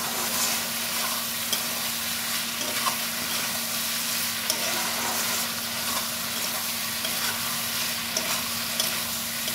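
Kudri (sal leaves) frying in a pan with poppy seed paste and a splash of water: a continuous, even sizzle with a faint steady hum beneath, close and unbroken, no voices.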